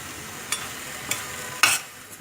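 Thoothuvalai leaves and tomato are sautéed in a pan for soup. Three sharp, quiet spatula strokes land about half a second apart over a faint background hiss.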